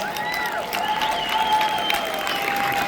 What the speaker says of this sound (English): Let's give all of you a round of applause for being here.